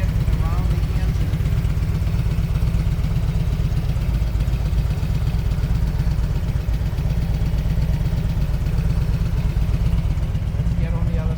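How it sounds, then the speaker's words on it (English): A 1999 Harley-Davidson FLHRCI Road King Classic motorcycle idles with the microphone held close to the engine, giving a steady, even, low throb that runs unbroken without rattles. "Let's get the microphone closer to the engine. Very, very, very quiet engine."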